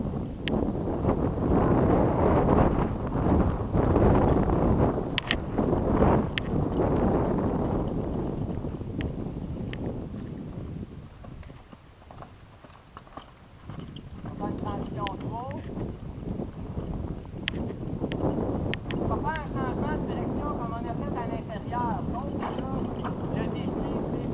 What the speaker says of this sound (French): Là, je vais la partir au galop.